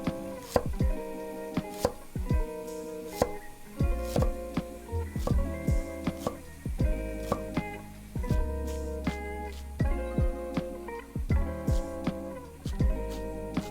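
Knife mincing a big chunk of ginger on a cutting board, irregular sharp chopping taps in quick clusters, close and clear over quiet background music.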